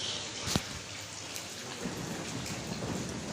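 Steady rain hisses throughout, with a sharp crack near the start and low thunder rumbling underneath.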